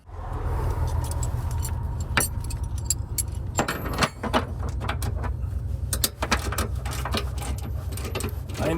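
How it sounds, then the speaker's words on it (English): A 9/16 wrench working on an RV jack on a fifth-wheel trailer, with close metallic clinks and rattles over a steady low hum of a nearby running vehicle. "9/16 wrench."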